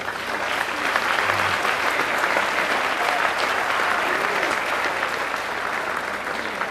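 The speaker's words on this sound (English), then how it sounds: "Let's give a round of applause for Ruffino." A hall full of guests applauds at a polo hall of fame induction ceremony, a continuous dense wash of clapping heard steadily and moderately loud throughout.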